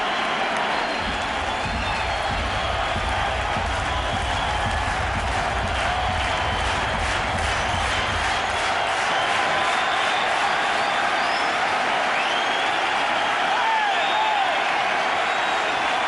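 Baseball stadium crowd at a Kansas City Royals at New York Yankees game rising to its feet, a sustained roar of cheering and applause that stays loud and steady throughout, with a deeper rumble in the early part.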